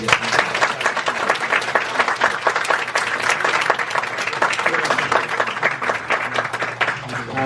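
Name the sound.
church congregation applause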